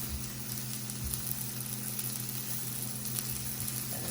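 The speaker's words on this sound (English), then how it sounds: "Got a nice little sear going on." Lemon pepper salmon sears in a hot oiled pan, giving a steady close sizzle and faint crackle that holds evenly for a few seconds with no talking.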